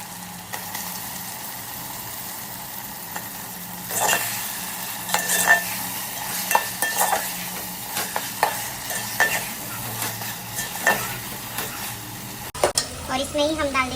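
Chicken pieces hitting a pan of fried chili paste and sizzling, with repeated scraping stirs of a utensil against the pan over a steady low frying hiss; a brief clatter near the end.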